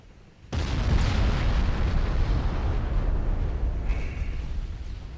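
Naval guns fire and shells strike in Ultimate Admiral Dreadnoughts: a sudden heavy boom bursts in after a quiet moment, then a dense rolling rumble of blasts and impacts that stays loud to the end, with no speech.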